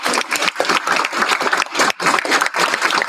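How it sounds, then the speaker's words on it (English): A school board meeting audience applauds the board, sustained clapping from a room of people throughout, steady and fairly loud with no speech over it. "So if we could give our board a round of applause for all of their."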